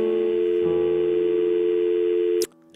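Steady telephone tone after a call is hung up, a loud sustained electronic hum that cuts off abruptly near the end, followed by a brief click.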